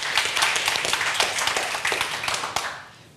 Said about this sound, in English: let's start with a round of applause for Seibert Media team